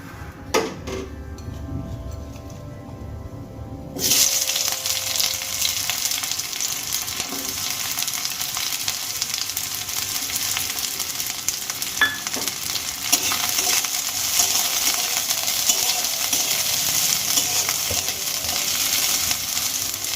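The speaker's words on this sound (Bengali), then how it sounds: "এবারে তেলের মধ্যে ছোট সাইজের 2টো পেঁয়াজ আমি ভেজে নেব" Two small onions, cut into large pieces, dropped into hot oil with a sudden loud sizzle after a few quiet seconds, then a steady close frying hiss with occasional utensil scrapes and clinks.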